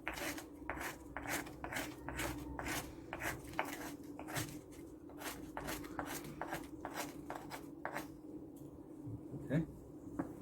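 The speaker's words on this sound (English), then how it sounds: "if we pick up kind of a rough stone and just kind of grind it up" A rough stone rasps against a flint edge in a rapid run of short, dry grinding strokes, close by and fairly quiet, with a faint voice in the background.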